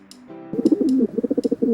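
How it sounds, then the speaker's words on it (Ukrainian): A pigeon coos close by in soft, rolling throaty pulses, a short phrase followed by a quicker series of burbling notes. "Це воркує голуб."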